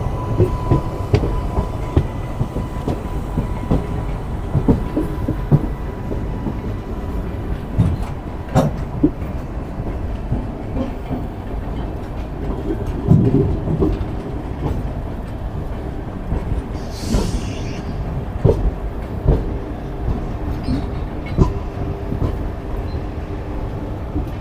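A passenger train pulls away from platform 1 at a railway junction, with rumbling wheels and rhythmic clickety-clack of carriages passing over rail joints, loud and close throughout.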